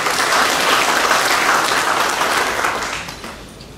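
Dense, steady applause from a large audience at a government contract-signing ceremony opened by the NTT governor, sustained loudly and then tapering off near the end.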